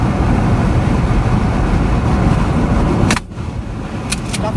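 A car on a street passes close by, a steady broadband engine and tyre roar that holds loud, then drops off abruptly as it goes, with no talk over it.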